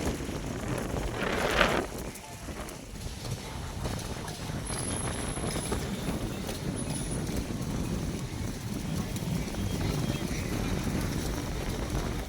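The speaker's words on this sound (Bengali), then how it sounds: "পানির ঢেউটা দেখেন এই যে বাতাস বইছে" Wind gusts across a river at the Ramnagar ferry ghat near Plassey, buffeting the microphone with a steady rough rumble for the whole stretch.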